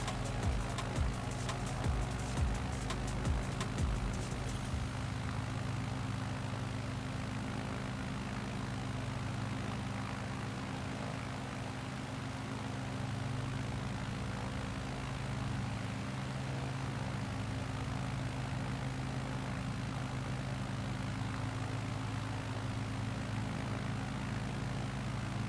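A small propeller airplane drones steadily in flight over Alaska's Inside Passage, its engine a constant loud hum with harmonic tones that holds for the full length, with a brief rougher patch near the start and no talking.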